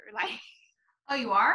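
One short, sharp sneeze sounds close by during an indoor conversational interview, followed after a brief pause by someone speaking.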